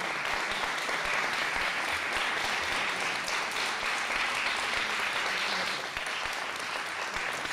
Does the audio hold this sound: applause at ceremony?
yes